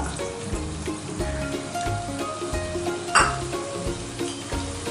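Capsicum sautés in a pan with ginger garlic paste, a constant close sizzle broken by rhythmic stirring scrapes and one sharper clatter of the utensil against the pan.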